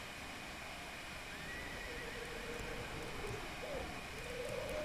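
A horse in the fantasy game Dragon Age Inquisition gives a few faint, drawn-out whinnies over a steady ambient bed of wind and outdoor noise, with no one speaking.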